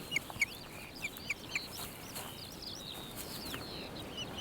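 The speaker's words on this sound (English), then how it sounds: "the osprey couple's chicks have hatched" Osprey chicks only a few days old give a series of thin, high cheeping calls at a lakeside nest, five or six quick peeps early on, then softer scattered chirps over a steady outdoor background.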